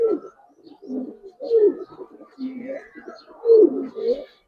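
A male pigeon coos in close, throaty bursts, several rolling calls repeating at an uneven rhythm over about four seconds, loud and clear against a quiet background.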